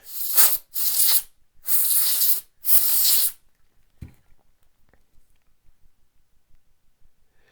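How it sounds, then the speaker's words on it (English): Compressed air blasts in four short, loud hissing bursts to clean a knife without taking it apart, followed by a soft knock and near silence. "another item that a lot of people have around is just the compressed air"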